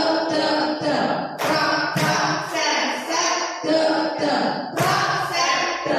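School staff audience in Indonesia clapping together on a spoken count, several short bursts of rhythmic group claps separated by brief pauses, with voices mixed in between.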